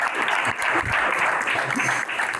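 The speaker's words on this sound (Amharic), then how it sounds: "አጨብጭቡላቸው።" A crowd at a lively game session breaks into dense, sustained applause that fills the room evenly throughout, with faint voices underneath.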